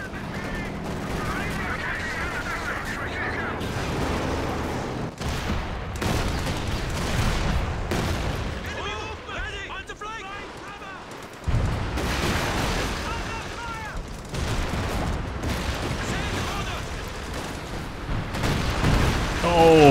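Heavy barrage of grenade and artillery explosions in a winter 3v3 Company of Heroes 2 battle, booming blasts and crackling gunfire in dense, rolling bursts that briefly thin out midway before erupting again, loud and close.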